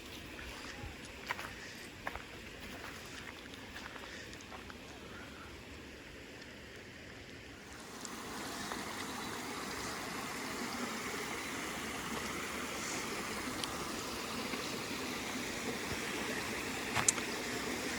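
A stream in Borderland State Park, Massachusetts, runs beneath a footbridge. Its steady broadband rush is faint at first and swells to a fuller, constant wash halfway through, with a few scattered knocks and no talking.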